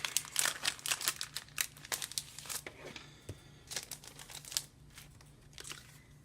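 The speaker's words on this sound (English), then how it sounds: "let me pull apart these frames and tags and see what we have in here" Paper frames and tags pulled apart from a scrapbook embellishment pack, close, crisp crinkling and tearing in quick irregular bursts.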